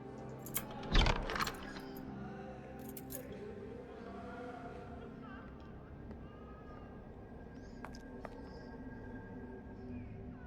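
Keys jangling in the Sherlock Holmes The Awakened video game: a single brief metallic jangle early on, then faint, quiet game ambience with a few small clinks.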